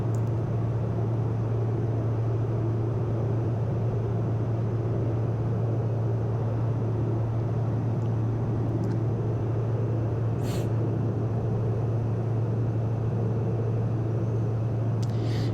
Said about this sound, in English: This is just such a fun airplane to fly.